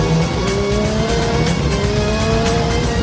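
A 1979 Renault F1 race car engine accelerating, heard from inside the cockpit as a loud, continuous high-pitched scream whose rising tones climb steadily through the gears, with no voices.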